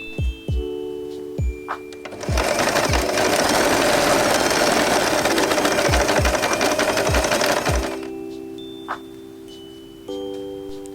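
A sewing machine stitches overlapped elastic inside a faux fur scrunchie, running in one loud, steady burst of about six seconds, with single clicks and mechanical taps before and after.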